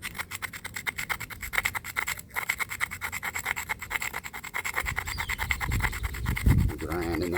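A sandstone hammerstone grinds across a flint platform edge with steady, close rasping strokes in a rapid rhythm, growing heavier and louder near the end, with no talk.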